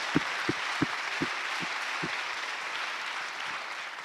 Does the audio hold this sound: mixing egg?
no